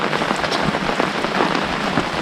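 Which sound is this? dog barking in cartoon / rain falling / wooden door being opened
rain falling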